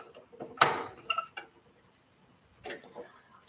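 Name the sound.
sewing machine being rethreaded with bobbin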